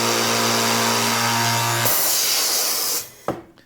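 A hinge boring machine drills into a wooden door, a loud steady motor whine with a rising grinding bite that stops abruptly, followed by a short clunk.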